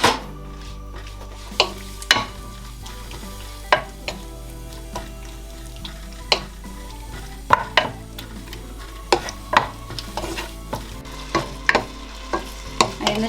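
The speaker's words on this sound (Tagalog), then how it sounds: "now just let's fry the chicken" Chicken frying in oil in a pan, a steady crackling sizzle broken by repeated sharp clinks and scrapes of a utensil stirring and turning the pieces, close and with no voices.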